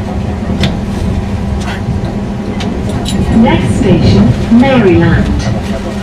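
Steady rumble inside a TfL Rail train between Stratford and Chadwell Heath, with low mechanical drone throughout and muffled chatter and rattling on board.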